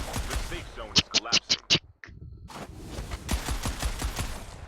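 A Molten skin gun fires in a video game: five rapid, punchy shots in a tight rhythm, set between stretches of talk and game noise.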